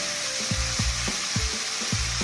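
Paneer fries in hot oil in a kadai with a steady sizzle, broken by a regular rhythm of low scraping thumps as the pieces are stirred.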